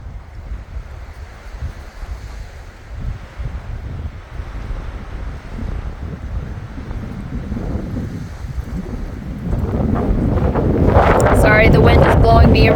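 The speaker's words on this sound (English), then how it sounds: "Sorry, the wind is blowing me around a little bit." Heavy wind buffets a microphone outdoors on high open ground above the Klamath River at Copco, a constant low roar that swells louder toward the end, with a voice talking beneath it.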